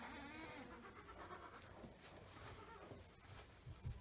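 Newborn goat kids, one born the night before, bleat faintly at a farm amid dense rustling background noise, with soft speech-like sounds mixed in.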